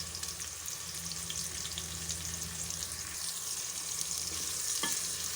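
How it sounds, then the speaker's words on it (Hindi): Medium onions and green cardamom hit hot oil for beef trotters, giving a continuous, even sizzle that holds steady throughout, fairly quiet, with a sharp clink near the end and no talking. "ऑयल मेरा गर्म हो चुका है, अब मैं इसके अंदर जो प्याज ली थी मैंने दरमियाने साइज़ की, वो डाल रही हूँ।"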